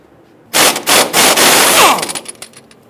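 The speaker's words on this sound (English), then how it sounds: "19mm socket, we want to loosen and remove the nut on the lower portion of our strut assembly" A 19mm socket loosens the nut on the lower strut assembly of a 2000–2006 Toyota Tundra. One loud, rapid rattling burst lasts about a second and a half, then a few fading clicks follow.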